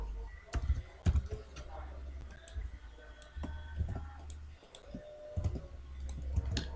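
Sparse key clicks as a username is typed on a computer keyboard, irregular taps with short pauses, under a low background hum.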